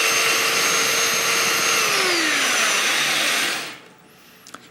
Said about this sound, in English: I'm just going to use a belt sander to radius the edge of my plywood